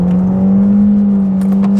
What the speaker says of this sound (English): My only complaint with the engine, it makes a good amount of power, but it just doesn't sound the best.